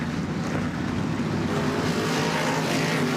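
NASCAR Whelen Modified Tour race cars roar side by side around Riverhead Raceway, a steady loud engine drone heard from a distance with no talk.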